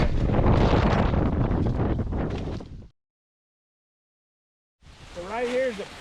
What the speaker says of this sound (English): it's going to be very windy out here, so probably won't be any audio